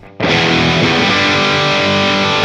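An electric guitar played through a PT100 amplifier rings out as one loud, heavily distorted chord that sustains and holds steady after a quiet start, with nothing else playing.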